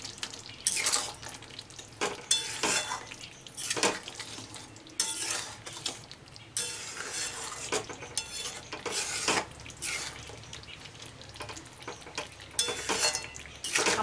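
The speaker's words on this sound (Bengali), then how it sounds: "আর যে মশলাটা করে রেখেছিলাম সেটা আমি দিয়ে দেব। খুব ভালো করে মিশিয়ে দেব।" Potato and pointed gourd curry with spices and a little sugar being stirred in a pan, with repeated bursts of scraping and clattering utensil strokes over a soft cooking background, close and fairly loud, no talk.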